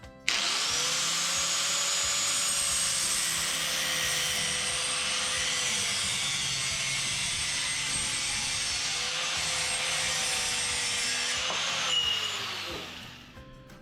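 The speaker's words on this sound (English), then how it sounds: "We're going to cut it off here." A power saw cutting through square steel tubing, a loud continuous whining grind with a steady pitch for about twelve seconds, then winding down and stopping, with no speech.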